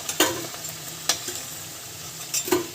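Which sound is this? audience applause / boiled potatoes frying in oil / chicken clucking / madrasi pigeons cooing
boiled potatoes frying in oil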